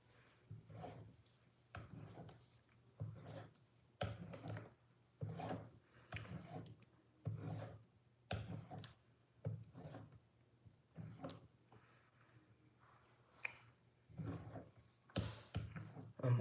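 A Benchmade EDC knife being sharpened, with repeated rhythmic rasping strokes of the blade across the stone at close range, each a second or so long with short pauses between.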